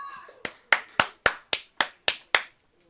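At a lawn bowls game in Cockburn, one person claps for a good bowl with eight sharp, evenly spaced hand claps, close and crisp. Each clap dies away quickly before the next one.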